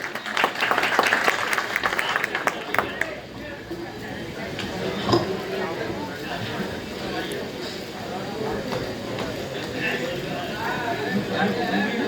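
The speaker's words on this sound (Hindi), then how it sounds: "जोरदार तालियां बजाएं चंचल चौहान" At a Hindi poetry gathering, the audience claps for poet Chanchal Chauhan in a burst of rapid applause that fades after a few seconds into a room of murmuring chatter and voices.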